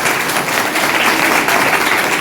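An audience applauding at a community meeting and student felicitation event, a dense continuous wash of many hands clapping at close-to-mid distance, steady throughout with no pauses.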